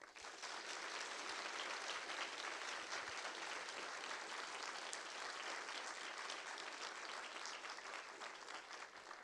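Steady applause fills a moot court competition hall as the audience thanks the judges, a broad even wash of many hands clapping, heard at a distance and fairly faint, continuing without a break.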